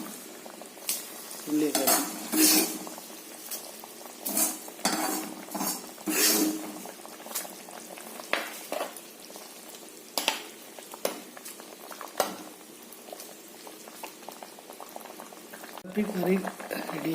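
Fish curry with coconut boiling in a pot, a soft continuous bubbling and simmer with occasional clinks of a utensil stirring, while a person talks over it.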